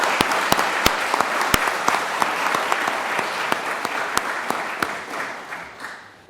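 An audience at a township council meeting applauds an officer, a steady wash of clapping with several sharp, louder individual claps standing out near the microphone, fading toward the end.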